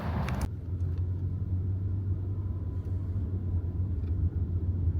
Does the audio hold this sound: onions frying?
no